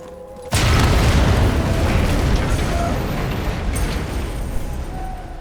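In Sniper Elite 4, a big gun is blown up with a sudden loud boom after a brief quiet lead-in, followed by a long, heavy rumbling roar that slowly fades.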